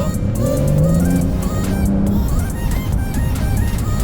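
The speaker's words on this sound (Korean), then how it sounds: "고속도로에서 992를 타보도록 하겠습니다" A Porsche 911 of the 992 generation cruising on a highway, heard from inside as a loud steady engine drone with road and tyre rumble and slight rises in pitch.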